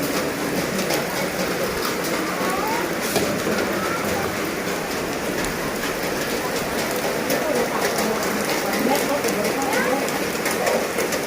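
Heavy rain pours down steadily at an outdoor rice-giving event, a dense continuous hiss of drops striking surfaces from start to finish, with faint voices in the background.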